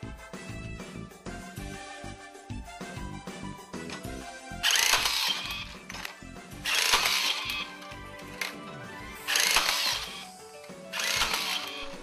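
A Max rebar tying tool fires in short whirring bursts, several quick mechanical cycles close up, with music-like tonal sounds playing underneath between the bursts.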